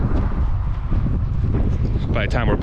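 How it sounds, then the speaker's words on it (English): Loud wind buffeting the microphone in a constant low rumble, with a voice briefly rising over it near the end. "It's windy, windy. It's windy."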